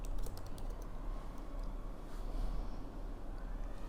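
Keystrokes on a computer keyboard while entering Python code, a quick irregular run of faint clicks over low background hum, with no voice.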